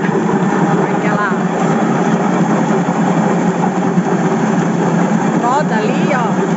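A motor adapted to drive a home corn grinder hums and runs steadily, a close, loud, continuous mechanical drone with a few faint higher chirps over it.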